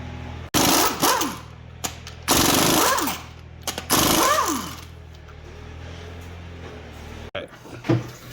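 An air impact wrench spins wheel lug nuts off a GMC Yukon XL in three loud, rattling bursts, each with a rising and falling whine. Short clanks, rustles and a final brief burst fill the gaps in a garage.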